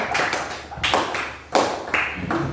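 Schoolchildren in an Indonesian classroom clap for their classmates in short group bursts, several quick claps at a time with brief pauses between.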